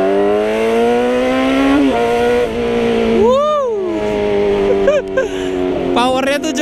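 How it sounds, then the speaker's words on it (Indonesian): Inline-four Kawasaki ZX6R fitted with a loud aftermarket exhaust, revving hard with rising and falling engine pitch and sharp throttle blips, close and loud throughout. "Inline dengan kombinasi suara knalpot petir"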